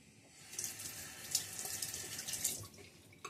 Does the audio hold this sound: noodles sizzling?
no